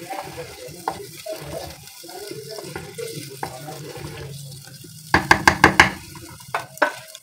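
Spiced potatoes and spinach are stirred in a frying pan, with soft scraping and sizzling that runs throughout, then a quick cluster of sharp spoon knocks against the pan near the end, close and moderately loud, with no talking.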